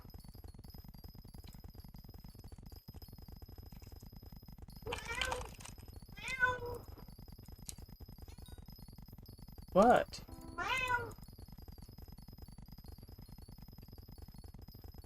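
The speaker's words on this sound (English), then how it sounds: "Okay, the cat is in the window now." A cat sitting in a window meows several times in short, separate calls. The meows are fairly soft and sound close by, and a person speaks briefly between them.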